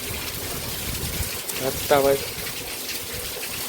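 Heavy rain pours down steadily as a broad, constant outdoor hiss on a gloomy, rain-soaked day, with a voice speaking briefly partway through.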